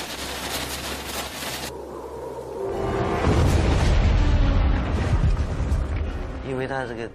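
Dynamite blast in a documentary about a collapse: a deep, heavy boom swells into a long, rumbling roar of falling earth lasting several seconds, loud and low, with a faint music-like tone at the close.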